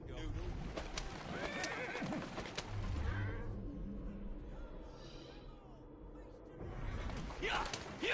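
A horse whinnies loudly over a busy Assassin's Creed Syndicate game soundscape with hoofbeats and a voice talking, the whinny rising and fading near the end.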